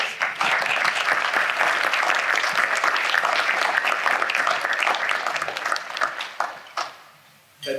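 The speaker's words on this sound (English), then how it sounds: "let's give our awardee another round of applause" Dense, sustained applause from a seated audience at a Winston-Salem fair housing summit honors an award recipient, holding steady and loud before tapering off near the end.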